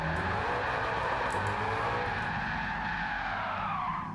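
A Genesis G70 race car with a swapped engine spins out in Gran Turismo 7, giving a long, loud, continuous tire squeal and skid over engine roar, with no talking.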